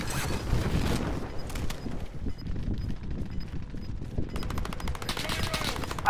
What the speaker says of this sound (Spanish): Ah, me disparan.